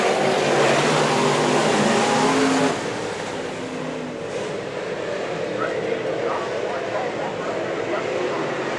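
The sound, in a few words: sport modified race cars racing at speedway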